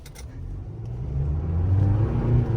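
Chevrolet Colorado ZR2 Duramax mid-size diesel truck on 33-inch tires accelerating with the pedal floored, a steady low engine drone that builds in loudness and pitch, heard from inside the cab with no talking.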